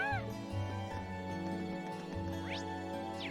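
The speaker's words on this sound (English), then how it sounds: "now it kinda sounds more like a cat" Cat meowing in the video game Trails of Cold Steel, a couple of short rising and falling mewing calls over steady game music and tones.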